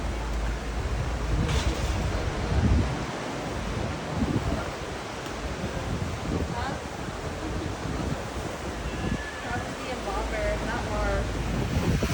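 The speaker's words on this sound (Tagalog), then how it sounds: "The waves is crazy." Heavy ocean surf at Orange Beach rolls in as a continuous wash of breaking waves, mixed with wind buffeting the microphone and a few faint voices in the background.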